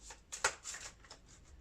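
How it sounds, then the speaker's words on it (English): Tarot cards being shuffled back into the deck by hand, a few soft papery riffles and slides close by, quiet and irregular, with no voices. "I'm going to put all these back in and shuffle them back in"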